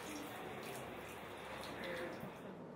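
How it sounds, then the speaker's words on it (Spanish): Tap water runs steadily for hand washing with soap, a continuous broadband splash and hiss that stays even and close throughout. "Lave sus manos con agua y jabón."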